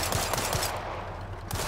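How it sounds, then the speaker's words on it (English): Rapid bursts of automatic gunfire in a World War 3 shooter game, dense and continuous over a low rumbling background, with sharper shots standing out at the start. "Oh, we're getting shot at."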